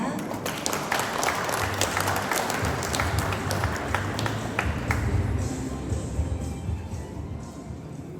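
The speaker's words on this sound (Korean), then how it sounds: "여러분 큰 박수로 맞이해 주시기 바랍니다" Audience at an arts award ceremony in Jeju claps to welcome a committee chairman to the podium, a sustained moderate round of applause that slowly fades toward the end.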